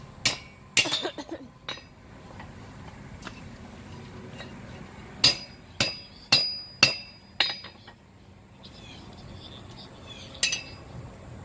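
A blacksmith hammers a steel drift into the eye of a forged animal-head hook, sharp ringing metallic strikes, a few early and then a quick run of five or six blows, close and loud in a quiet workshop.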